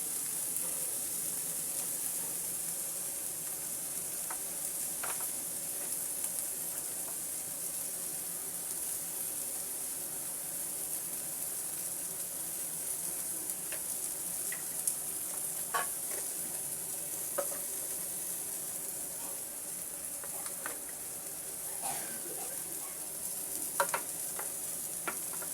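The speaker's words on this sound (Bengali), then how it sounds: "ধনিয়া গুঁড়োটা দিয়ে আমি এখানে একটু নেড়ে দেব।" Bitter gourd and prawns fry in a pan with a steady sizzle while coriander powder is stirred through, soft scrapes and clicks of the spatula surfacing now and then over the continuous hiss, with no talking.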